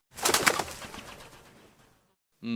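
A brief flurry of pigeon wing whistles and flapping fades out over about two seconds, followed after a short pause by a single cooing note.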